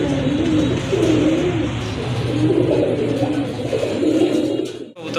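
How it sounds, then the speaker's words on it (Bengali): Large Rajgolla pigeons coo repeatedly up close at a pigeon sale, deep rolling calls overlapping in a steady chorus. "রাজগোল্লা কবুতর, মাশাআল্লাহ খুবই সুন্দর কবুতর, অনেক বড় সাইজের কবুতর"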